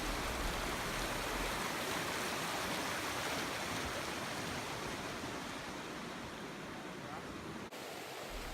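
Creek flowing beneath a footbridge on a trail to Donut Falls, a steady broadband rush of water, fairly close and continuous, with no other clear sounds.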